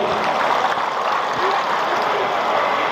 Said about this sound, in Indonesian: Kita beri tepuk tangan untuk kabupaten yang kita cintai